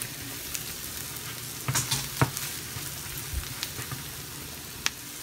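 Brinjal frying in a pan with chilli, turmeric, cumin and coriander powders and garam masala, a steady soft sizzle broken by a few sharp spatula scrapes and taps, with no voices.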